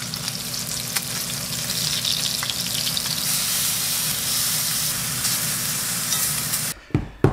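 Pork belly frying in oil in a pan with a splatter-guard lid, a dense steady sizzle and crackle of spattering fat running for several seconds, then cutting off abruptly near the end.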